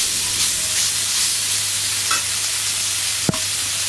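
Spiced figs frying in a pan give off a steady, close sizzle that holds evenly, with a soft scrape of stirring and a single sharp clink near the end.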